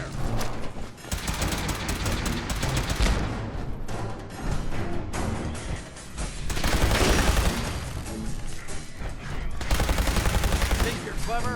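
Heavy sustained gunfire in Fallout 4's Nuka-World, dense overlapping bursts and rapid shots that fill the scene continuously, loud and close with brief lulls.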